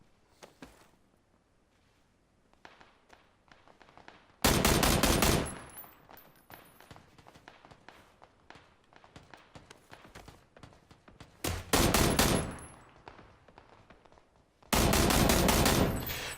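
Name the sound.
gunfire in PUBG video game, M16 rifle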